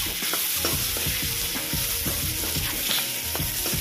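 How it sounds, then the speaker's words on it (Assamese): Pigeon meat and potatoes fry in a pan, with a continuous loud sizzle and repeated scraping and stirring strokes of a spatula in a steady rhythm. "এতিয়া আলু দি পেলাই অলপমান দেৰি ভাজিম।"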